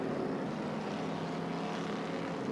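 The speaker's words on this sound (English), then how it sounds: "the field now making its way off the second turn, warming up the engines" 1980 NASCAR Winston Cup stock cars at the American 500 warming up their engines on track, a steady distant engine drone that holds evenly throughout without speech.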